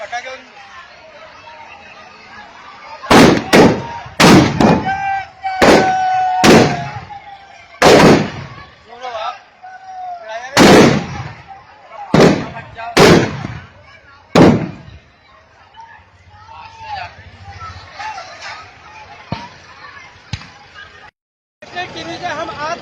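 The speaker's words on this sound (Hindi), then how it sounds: "नगर परिषद ने सही तरीके से पटाखे" Firecrackers and fireworks go off during a 31-foot effigy burning in Sonkatch: a series of sharp, loud bangs in irregular succession, some echoing, with crowd chatter and talk throughout.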